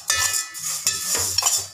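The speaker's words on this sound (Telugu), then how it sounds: "ముందుగా సేమియాని ఈ విధంగా దోరగా వేయించుకోవాలి" Semiya vermicelli toasting in a pan, stirred steadily so a dry rustling scrape repeats with a soft sizzle underneath, close and fairly loud throughout.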